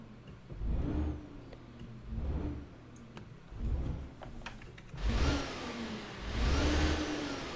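In Euro Truck Simulator 2, a MAN TGX truck engine cranks and starts, then idles with repeated rising and falling revs, a deep rumble swelling several times and growing fuller and louder near the end.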